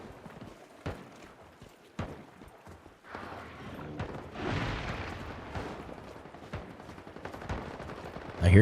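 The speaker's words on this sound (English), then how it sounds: "I hear gunfire." Scattered gunshots ring out in the survival shooter Once Human, several sharp isolated cracks spaced seconds apart over a busier stretch of rustling, footsteps and ambient game noise.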